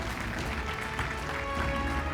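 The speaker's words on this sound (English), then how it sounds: "Please give him a round of applause." Applause from an audience at an insurance awareness quiz award ceremony, a steady wash of clapping throughout the short stretch.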